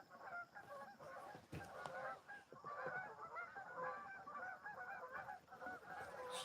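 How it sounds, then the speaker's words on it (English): Huge flocks of geese on the surface of the water, some landing, keep up a continuous chorus of overlapping honks, faint and distant. "Huge flocks of geese behind me, but you'll never see them."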